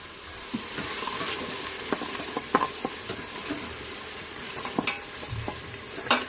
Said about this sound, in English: And then I'm going to put in the carrots and stir those guys around.